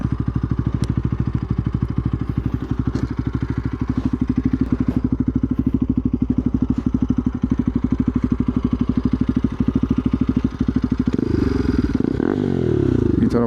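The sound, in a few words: motorcycle exhaust note without dB killer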